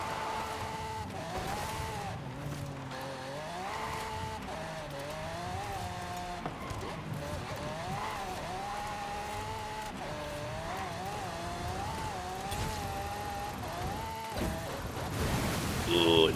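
Lamborghini Urus driven in the Forza racing game, a steady engine drone with rising and falling revs across gear changes, continuous and fairly loud with a brief surge near the end.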